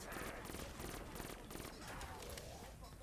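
Rapid gunfire in Call of Duty Der Eisendrache zombies, dense repeated bursts of shots at steady rhythm, loud and continuous, with a voice talking over it.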